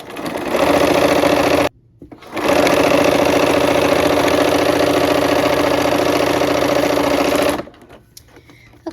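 A sewing machine stitches quilt pieces onto drunkard's path units, running loudly and steadily in two bursts with a short pause between them and a faint stop at the end.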